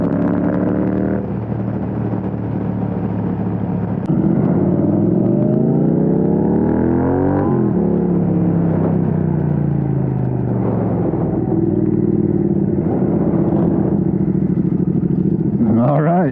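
Motorcycle engines rev and accelerate hard, a 600cc sport bike such as a Yamaha R6 or Honda CBR600 alongside a Triumph Speed Twin, with rising and falling gear-change sweeps, loud and close throughout.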